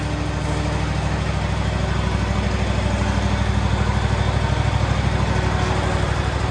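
A John Deere machine's engine runs steadily just after starting, a close, loud, rapid chugging putter that holds an even rhythm throughout without speech.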